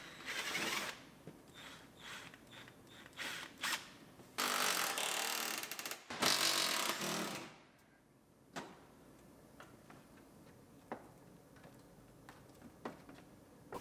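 Plastic wheel liners being pulled off and bumper bolts being undone on a 2002 Pontiac Grand Am GT, giving scattered close ratcheting clicks, plastic rustles and two longer loud bursts of tool noise, with no talk.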